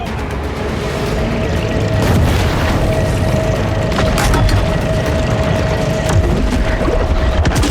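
A torpedo explosion in the shark game Maneater, heard as a sustained loud underwater rumble with booming bursts and a steady hum running throughout.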